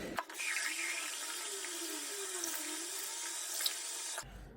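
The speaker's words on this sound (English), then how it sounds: "So I just grab about this much, and I'm gonna wash my face." Water runs steadily from a tap into a sink while a face is washed with a foaming oil cleanser, a close, even splashing rush that stops abruptly at the end, with no talking.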